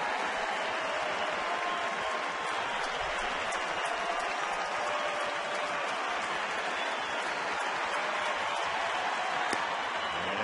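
Baseball stadium crowd of more than 40,000 cheering and clapping as fans rise to their feet, a dense, continuous wash of applause and roar filling the whole stretch.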